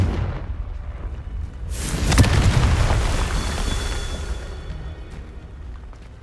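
A Confringo fire spell in Hogwarts Legacy detonates as a single loud, deep explosion that swells suddenly, then rumbles and crackles as it slowly fades.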